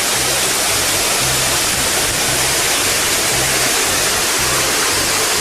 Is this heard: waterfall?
yes